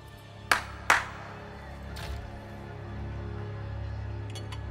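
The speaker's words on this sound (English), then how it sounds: "Funny how she makes the clapping noises with a glove." Two crisp clapping hits from a gloved character in the video game Anthem, close together near the start, followed by a low steady game ambience with a faint later clap-like tap.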